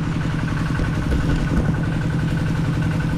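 A Honda Click 160 scooter idles nearby with a steady, moderately loud engine putter and light mechanical clatter, holding an even rhythm throughout the short stretch.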